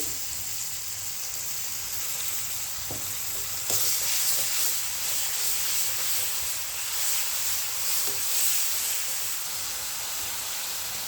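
Garlic paste sizzles and fries steadily in hot oil in a home kitchen pan, a continuous bright hiss with occasional stirring scrapes and small clicks, fairly close and without talk.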